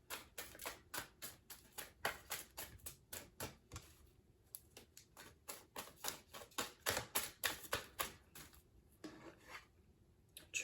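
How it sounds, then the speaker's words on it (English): Tarot cards being shuffled and pulled from the deck, a rapid series of crisp riffling flicks and slaps in uneven bursts, close and quiet, with no talk. "Let's pull some tarot cards, or oracle cards."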